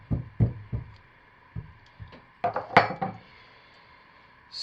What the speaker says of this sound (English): And now I'm going to stir the embeds in.